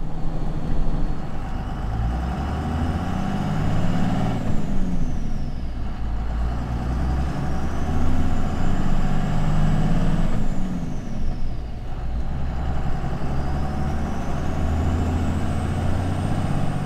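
A 12-valve Cummins diesel truck with a G56 six-speed manual drives along, its engine droning low and steady with rising and falling pitch as it shifts through gears.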